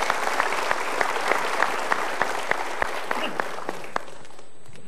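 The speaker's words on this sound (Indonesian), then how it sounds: "Kita berikan tepuk tangan untuk 3 orang ini" An audience applauds three people called up onto a stage at a motivational seminar, dense clapping with sharp individual claps standing out, sustained and then thinning out toward the end.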